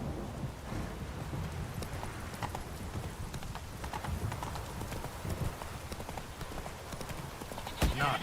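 Roach, a horse in the video game The Witcher 3, gallops with steady rhythmic hoofbeats under a wash of rain, with a sharp louder thump near the end.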